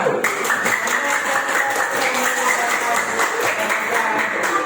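Classroom applause from primary school pupils, a steady dense patter of many small hands clapping together at even loudness, with a faint voice underneath.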